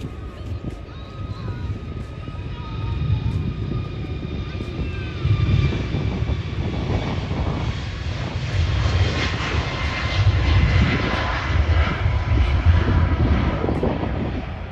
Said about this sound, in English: The Ryanair we saw recently then takes off following the same TUI aircraft we saw